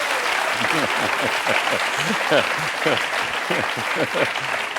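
A studio audience on the quiz show Qui veut gagner des millions? claps steadily and continuously throughout, while people keep talking over the applause.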